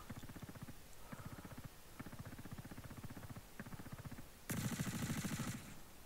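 Gunfire in the video game Star Citizen, rapid automatic bursts rattling in repeated strings with short pauses, moderately distant and faint, one burst louder and harsher near the end.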